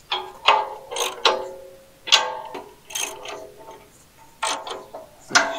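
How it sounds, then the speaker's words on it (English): Bolts on a land plane attachment are tightened by hand with a ratcheting wrench, close and clear. The clip holds irregular bursts of quick metallic clicking separated by short pauses, with no talking. "I'm just going to snug them up as tight as I can get them with the wrench."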